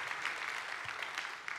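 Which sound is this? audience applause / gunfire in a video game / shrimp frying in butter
audience applause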